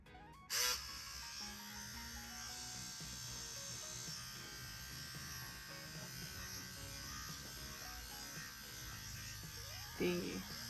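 A tattoo machine running on a Pneuma powered by a BRONC R1 battery, giving a steady, faint electric buzz throughout with a couple of brief clicks near the start and end, and a person talking over it.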